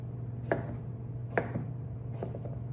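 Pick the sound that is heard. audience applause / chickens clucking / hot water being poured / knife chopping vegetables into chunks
knife chopping vegetables into chunks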